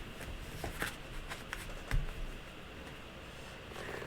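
Tarot cards being shuffled by hand, a soft, close papery riffling with a few sharper flicks and one louder tap, quiet and without talking.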